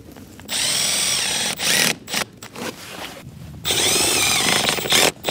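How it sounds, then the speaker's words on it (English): A power drill drives a couple of screws into a timber cladding batten, several short close-up whirring bursts with brief pauses between them. "So just pop a couple of screws in."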